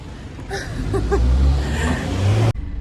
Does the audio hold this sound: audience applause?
no